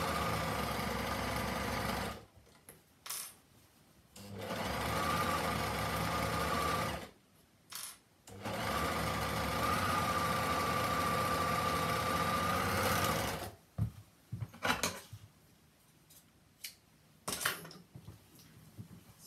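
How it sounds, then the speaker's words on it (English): An overlocker stitches fabric pieces for a drawstring bag, giving a steady close whirring hum in several bursts of a few seconds each. Brief pauses fall between runs, with faint handling noises in the gaps. "see how quick that is actually done on the overlocker"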